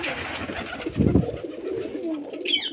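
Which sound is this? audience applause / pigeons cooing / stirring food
pigeons cooing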